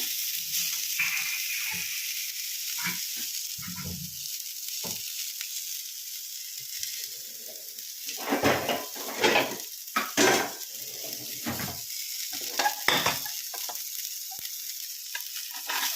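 Bitter gourd fries in a pan with a soft sizzle, and a spoon scrapes and clinks against the metal in uneven bursts. The strokes come close together in the middle of the stretch. No one speaks.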